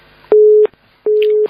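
A telephone busy signal after a dropped call: two loud, clean steady tones, each about a third of a second long, separated by a brief silence.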